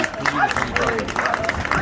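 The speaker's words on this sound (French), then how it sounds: "Vous pouvez les applaudir" An audience at a vintage pin-up pageant applauds the contestants, with dense clapping and crowd noise throughout, mixed with cheers and voices nearby.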